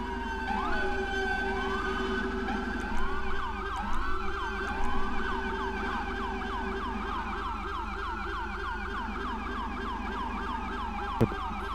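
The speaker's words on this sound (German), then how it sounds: "Dann will ich von jedem Polizeiauto mal die Sirenen hören." Several police car sirens wail together in a game convoy, overlapping rising and falling tones, loud and continuous, with a steady engine hum beneath.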